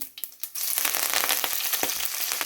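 Loud, steady sizzling and crackling of mustard seeds and curry leaves frying in hot oil, with a few sharp pops, close by and without talk.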